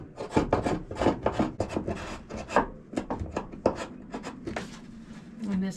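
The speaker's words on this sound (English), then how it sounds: "Just scraping the last little bits of the old adhesive sealant out of there." Scraping of old adhesive sealant from a Jatoba wood boat countertop, a close, repeated rasping and rubbing in quick uneven strokes, with no talk over it.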